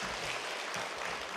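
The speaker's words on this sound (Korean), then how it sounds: "환영의 박수로 맞이해 주시면 좋겠습니다" Welcoming applause from a church congregation as a pastor is introduced to speak, a steady dense wash of clapping filling the room without a break.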